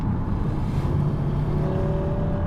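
A steady, powerful 2020 Audi RSQ3 Sportback engine runs close by, a deep continuous rumble with a faint rising whine toward the end.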